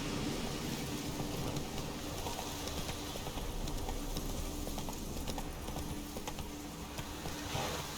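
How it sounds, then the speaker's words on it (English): Horse hooves clip-clop steadily as the horse Roach is ridden in the Witcher 3 video game, a continuous run of quick beats set against ambient background sound. "I'm actually going to ride Roach"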